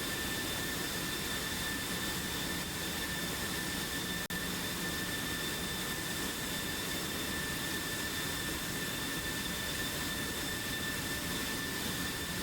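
Continuous roaring jet engine drone from F-16 and MiG-28 fighter jets flying in a combat flight video game, steady and loud throughout with a high whine above it, no talking.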